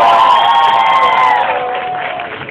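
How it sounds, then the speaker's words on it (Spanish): An audience in a hall cheers loudly, with a sustained rising-and-falling whoop over dense crowd noise and clapping that gradually softens over a couple of seconds. "Recibimos nuevamente con tremendo, tremendo aplauso al salón."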